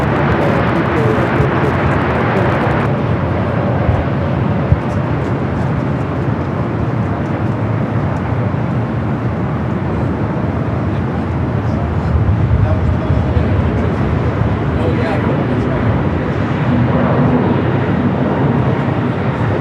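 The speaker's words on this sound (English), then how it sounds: "Terminal 2, that A321 touching down." Delta Airbus A321neo from Miami touching down at LAX by Terminal 2, a steady, broad jet roar filling the whole stretch with a slight swell near the end, with voices faintly present underneath.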